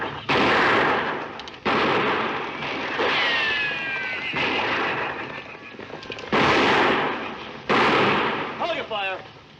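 Loud bursts of gunfire crack repeatedly in rapid volleys, with ricochet-like whines between shots and shouted voices mixed in.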